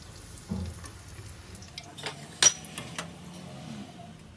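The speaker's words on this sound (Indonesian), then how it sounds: "Minyaknya udah panas, kita masukin cabenya biar dia nggak terbang-terbang." Chili peppers frying in hot oil inside a container for nasi lemak, a quiet crackle and sizzle with light clinks and scrapes of a utensil and one sharp metallic knock.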